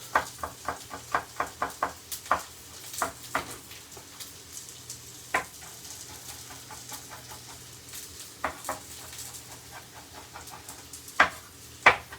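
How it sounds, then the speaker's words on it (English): A knife thinly slicing garlic on a cutting board: a quick run of crisp, close taps, then slower scattered cuts over a faint low hum, with no voices. "And we're just thinly slicing this garlic up."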